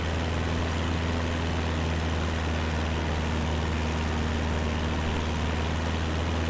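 Computer case fans revved up under heavy load give a steady, close whirring drone with a low hum, constant in level and unchanging throughout, with no talking.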